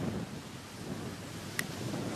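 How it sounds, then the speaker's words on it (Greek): Wind gusting across a beach under a red flag, a steady low rushing broadband noise with microphone buffeting and one brief faint tick, no voices. "αυτή τη στιγμή βλέπω φυσάει λίγο."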